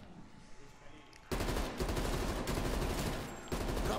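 Automatic weapon fire in Call of Duty: Black Ops Cold War Zombies, a quiet opening then loud, dense, continuous bursts of game gunfire filling the last two and a half seconds.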